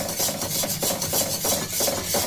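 A spoon scrapes through a dissolved cocoa powder mixture in a pan, making rhythmic rubbing strokes roughly every half second, close and fairly loud.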